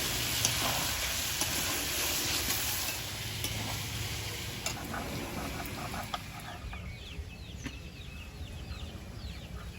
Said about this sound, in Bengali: মাঝে মাঝে চিকেনটা নেড়ে দেবো নাহলে তলায় লেগে যাবে